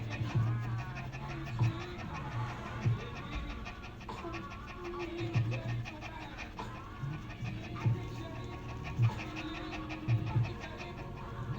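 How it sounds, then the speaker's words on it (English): A dog pants nervously inside a car, a steady, rhythmic stream of quick breaths close by, with faint background noise throughout. "they're going to have a fit about her panting"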